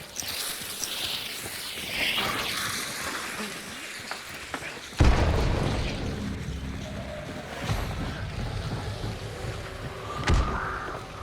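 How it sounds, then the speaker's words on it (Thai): A sudden loud, booming grenade explosion in Hunt: Showdown bursts in midway, cutting through a dense game soundscape of rumbling and clatter, with a smaller thud near the end. "เดี๋ยวกูปาระเบิดทำบอสเข้าไปให้"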